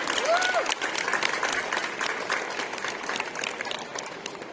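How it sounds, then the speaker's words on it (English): Audience applause rings out at a U.S. Embassy Vilnius event for the singers and the Marine Security Guard detachment. It is steady and fairly close, a dense crowd clapping continuously throughout. "Can we give one more round of applause to our singers and to the Marine Security Guard detachment?"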